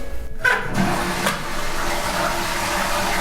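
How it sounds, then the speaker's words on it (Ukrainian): A hotel toilet flushes with a loud rushing gush of water that settles into a steady churning wash, close by. "Зливається вода"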